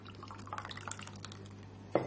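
Liquid is poured into a small bowl in a kitchen, a soft irregular trickle with faint drips, ending in a couple of sharper splashes near the end; no one speaks.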